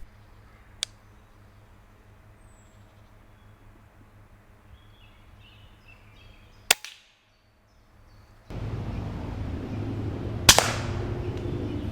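A Crosman 2250 XL airgun fires at squirrels in quiet early-morning woods, giving a few sharp, isolated cracks spaced seconds apart, with no talk.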